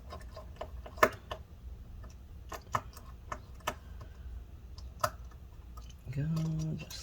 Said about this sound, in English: let's go ahead and tighten up all these screws.